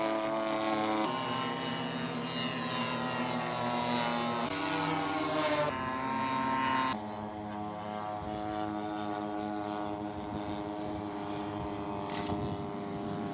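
A scale model airplane flies overhead at a model aircraft show with both landing gear down, its propeller engine droning steadily and loudly with shifting pitch throughout, no talk over it.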